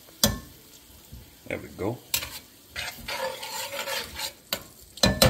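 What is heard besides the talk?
diced tomatoes with garlic and herb simmering in a pan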